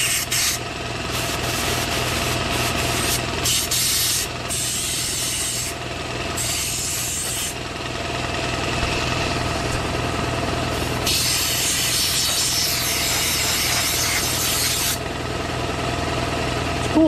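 Briggs & Stratton engine on a Toro 25-inch reel mower running steadily, a continuous rough, buzzy drone close to the microphone, with no voices.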